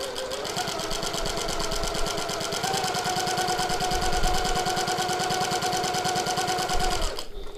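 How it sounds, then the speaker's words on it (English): Sewing machine topstitching a folded edge on a tote bag slip pocket, a fast even whirring run of needle strokes that goes on for several seconds and then stops abruptly near the end. "So I'm sewing 1/8 of an inch, so that's 3 millimeters away from the top folded edge."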